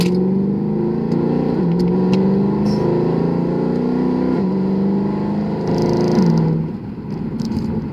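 A 2012 Mercedes W204 C63 AMG with a tuned transmission drives hard from inside, its loud V8 rising in pitch through repeated gear changes, each shift marked by a brief drop before the engine climbs again.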